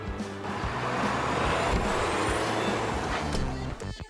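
A vehicle pulls up for a student heading to prom, its engine rumbling loud and close throughout with a brief hiss like an air brake, and the sound settles and breaks up near the end.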